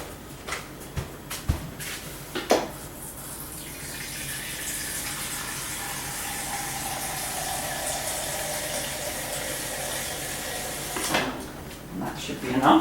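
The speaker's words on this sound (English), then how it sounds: "So I am just going to take water from my fridge" Cold water runs from a refrigerator's water dispenser for shortcrust pastry dough. A few knocks and clicks come first, then a steady stream pours for several seconds before more handling clatter near the end.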